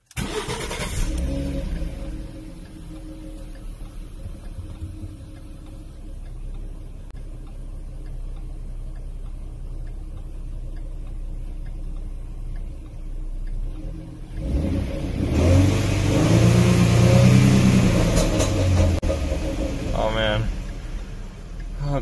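Ford Mustang with a six-speed manual starting up, a sharp crank and catch, then a settled idle before a loud, deep rev builds and fades; a person talks over parts of it.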